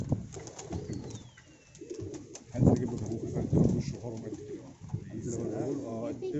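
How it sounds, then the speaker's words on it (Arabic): Deep, throaty coos from large pigeons repeat close by in a tall rooftop pigeon loft, mixed with someone talking over them. "ده حمام كبير"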